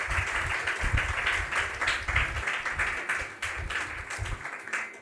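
A church congregation claps hands together during an anniversary service, with dense, steady clapping close and loud throughout.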